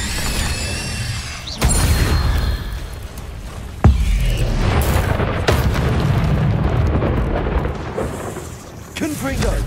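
Confringo fire spells detonate in Hogwarts Legacy as a few heavy, booming blasts, the sharpest near the start and middle, each landing over a dense, rumbling battle din with no clear gap between them.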